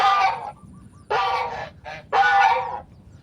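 A goose on a farm honks loudly and close, three drawn-out nasal calls with a short clipped honk between them, separated by pauses.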